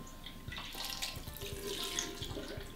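Cold tap water runs steadily into a sink while a Pullip doll is rinsed under it, a close, continuous splashing flow with small irregular spatters and drips.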